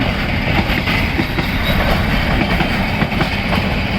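A train rumbles past close by on the rails at night in heavy rain, a steady loud roar with rhythmic wheel clatter running throughout.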